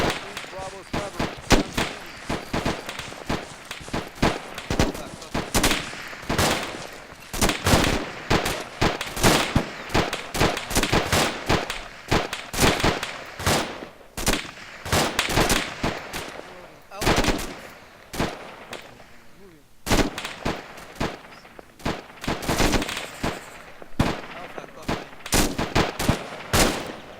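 Sustained video game gunfire in a squad fight, rapid bursts of automatic fire and sharp individual shots repeating loudly for nearly half a minute with short pauses between volleys.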